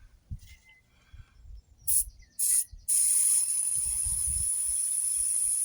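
Easy Start aerosol spray squirted into the intake of a supercharged Jaguar XKR 4.0 engine, two short hissing bursts followed by a long continuous spray hiss, after faint handling clicks.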